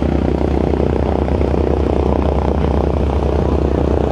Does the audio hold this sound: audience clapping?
no